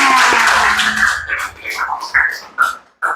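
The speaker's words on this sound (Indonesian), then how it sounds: "Oke, tepuk tangan." Classroom clapping from a group of students at a teacher's prompt, brief bursts of claps fading into scattered, uneven hits with faint voices mixed in.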